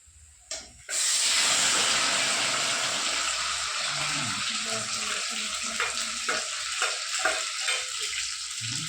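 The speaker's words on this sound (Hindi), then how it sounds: "तो तेल में प्याज सब डाले हैं, अभी मसाला डालेंगे।" Onions and spices frying in hot oil for a chicken dish, a loud sudden sizzle that bursts in and keeps up a steady hiss with small crackles and stirring taps, close up and without talk.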